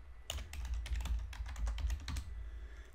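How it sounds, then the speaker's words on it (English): Fingers type on a computer keyboard, entering an email address: a quick, close run of light key taps that trails off near the end. "if you type in the email address,"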